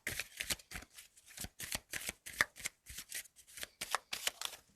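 Tarot cards are shuffled in quick, crisp riffling bursts, about a dozen short rhythmic flurries close up and fairly quiet with no voices over them.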